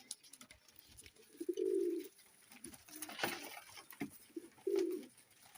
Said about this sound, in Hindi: बहुत नायाब टैडी कबूतर जनाब।